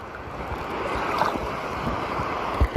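Strong wind and rough sea slosh steadily around a small fishing boat on open water, a constant near roar of waves with buffeting wind on the microphone and a couple of thumps near the end.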